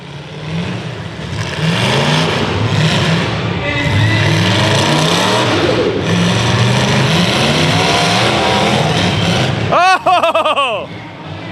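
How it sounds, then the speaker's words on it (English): Demolition derby car engine at the L.A. County Fair cranking and revving in repeated surges as the driver tries to restart it, loud and near under an announcer's commentary, with a sharp warbling burst near the end. "He's trying to reach down and get that car fired up again."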